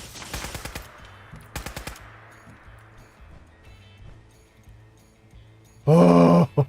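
Gunfire in the video game Fallout 4: two loud bursts of rapid automatic shots near the start, then a quieter stretch with a low hum, ending in a sudden harsh blast.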